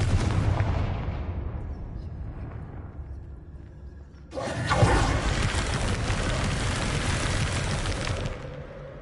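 Confringo fire spell blasting in the video game Hogwarts Legacy: a dense, rumbling roar that swells into a sudden louder burst midway and keeps booming before cutting off.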